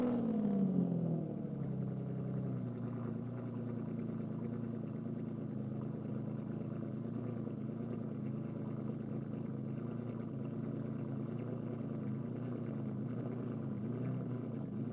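An Aston Martin Vanquish V12 cold-starts with a brief rising rev, then settles into a steady, smooth high idle that holds evenly throughout, with no talk.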